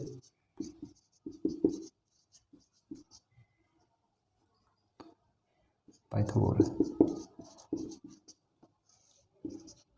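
Chalk or marker scratches on a board in short bursts while a math problem is worked through, with pauses between strokes and a longer run of scraping writing near the middle, mostly alone without talk.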